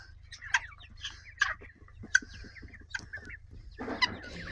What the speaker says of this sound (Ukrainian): Подивіться, які півник і курочка, куплені на виставці.